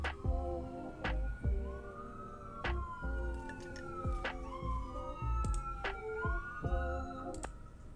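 Several fire truck sirens wail and sweep up and down outside, overlapping one another with short horn blasts, fairly distant and moderately loud.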